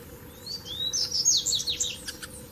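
Brazilian seedeaters, including lined and double-collared seedeaters, bathe in mud and give bright, quick chirps and short twittering phrases over a soft, steady background hiss.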